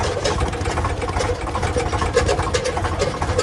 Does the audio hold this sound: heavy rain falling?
no